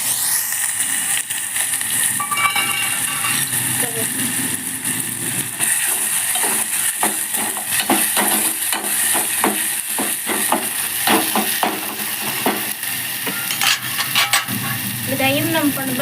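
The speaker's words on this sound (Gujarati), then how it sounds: "પછી આપણે જો મરચાં ટમેટા બે કાપેલું છે એ નાખી દેવું." Chopped chilies and tomatoes frying in hot oil already tempered with mustard seeds and cumin: a continuous loud sizzle runs throughout, broken by irregular clattering stirring strokes in the pan.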